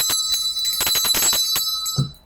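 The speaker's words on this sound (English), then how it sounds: "I'm going to ring the bell." A bell rings close and loud, with a bright sustained metallic tone and quick repeated strikes that fade away at the end.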